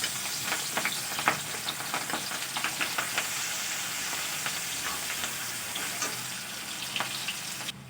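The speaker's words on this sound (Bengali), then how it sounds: "এবার আমি এই মাছ ভাজা তেলের মধ্যে দিয়ে দেবো পেঁয়াজ কুচি আর লঙ্কা কুচি।" Chopped onion and green chili frying in leftover fish-frying oil for a village-style fish curry with potato and eggplant, a steady loud sizzle with crackling pops and occasional stirring throughout.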